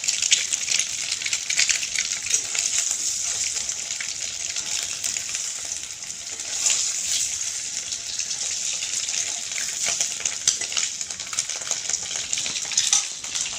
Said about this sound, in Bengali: দেখো লাল লাল করে ভেজে নিলাম ডিমটা